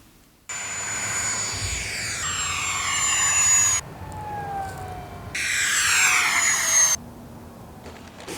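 E-Flite Habu Super Sport 70mm electric ducted fan model jet flying passes, a loud high-pitched whine that rises and falls with Doppler shifts, coming and going in separate swooping passes.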